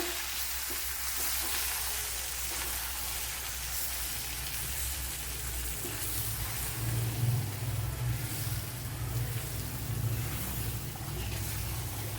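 Gooseberry pickle stirred in hot oil in a pan, a steady close sizzle and frying hiss with scraping stir sounds running throughout, no talking.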